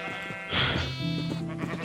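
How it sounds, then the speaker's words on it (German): Sheep bleat loudly and repeatedly while being fed, the drawn-out wavering calls close by and overlapping one another. "Oh mein Gott, ich fütter gerade wieder meine Schafe."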